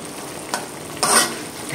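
Oyong, bean sprouts and tofu bubble and sizzle in a pan as the liquid reduces, with a couple of brief stirring scrapes standing out over the steady simmer.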